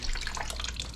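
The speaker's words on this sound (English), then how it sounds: "the water out of that machine. It's going to run out of there" Water pouring steadily out of a commercial ice machine as it drains, a continuous splashing, trickling flow heard up close at an even level, with no talking.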